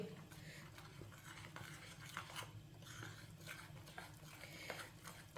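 A spoon works through gram flour batter mixed with water in a bowl for shami kababs, producing soft, continuous wet stirring and scraping sounds, quiet and close, with no one speaking.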